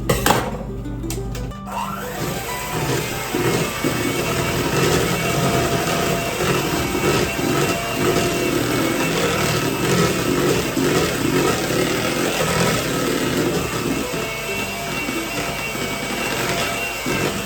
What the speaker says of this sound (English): So I'm going to use the mixer instead.